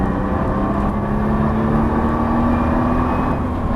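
A Nissan GT-R engine accelerates on the race track at Dreux, a loud, continuous close-up roar whose tone climbs steadily throughout.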